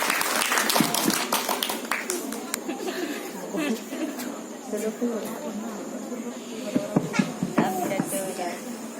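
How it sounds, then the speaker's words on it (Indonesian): An audience at a pesantren speech contest bursts into loud, scattered clapping for the next contestant, with chatter, laughter and voices mixed in as the clapping thins out and picks up again in patches. "Mana tepuk tangannya?"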